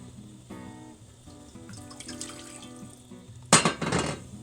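Water pours into a stock pot on a kitchen counter during chicken stock making, with a steady liquid trickle, then a louder splashing gush near the end, along with light clinks of metal.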